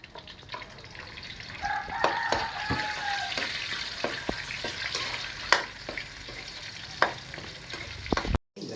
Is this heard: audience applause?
no